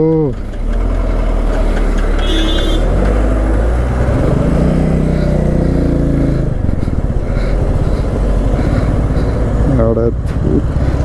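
Heavy Bangalore road traffic, a loud steady drone of car, truck and motorcycle engines idling and moving close by, with brief horn-like tones cutting through and voices now and then.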